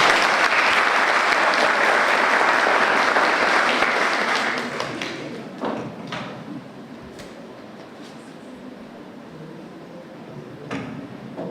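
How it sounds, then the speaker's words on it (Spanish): Graduation ceremony audience at a law school gives strong, close applause for about four seconds, then it thins into scattered claps and dies away under faint room noise. "Un aplauso para Marta."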